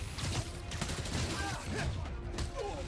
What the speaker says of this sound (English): I'm getting shot. Y'all had enough. Stop shooting me, dumbass.